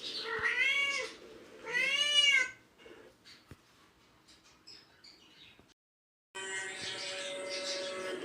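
A cat in an animated Hindi children's story gives two loud, drawn-out meows in a row, followed by quiet, a moment of silence, then a steady background tone.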